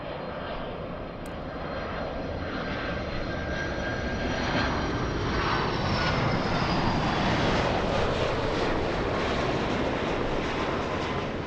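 A Delta Air Lines Boeing 767-300 arriving at LAX from Atlanta roars past with a broad, steady engine rumble and a faint whine, loud and sustained throughout, with no voices.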